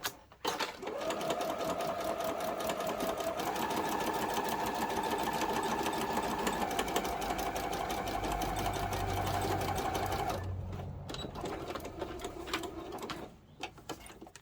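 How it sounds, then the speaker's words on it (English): A sewing machine runs steadily for about ten seconds, a fast close mechanical whirr of stitching, then stops, followed by a few faint clicks and handling sounds. "head over to the sewing machine and stitch that down"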